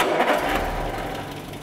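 A Land Rover 2.25 petrol engine with a replacement carburettor cranks and catches, then settles into a low, steady idle rumble close by.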